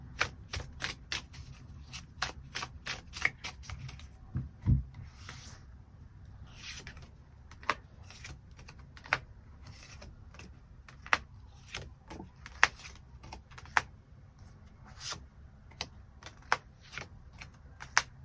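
Tarot cards shuffled by hand, giving a long run of rapid riffling clicks and soft slaps, close and steady throughout, with no talk.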